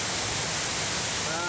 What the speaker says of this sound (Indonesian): Ini objek wisata air terjun Desa Tabak Remanik.